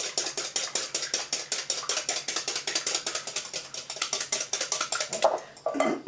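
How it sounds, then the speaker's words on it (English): A whisk beats an egg in a bowl, a fast, steady rhythm of sharp metallic clicks against the bowl, close and clear, slowing briefly near the end. "whisk my egg where it'll be, I won't have strings of eggs and stuff"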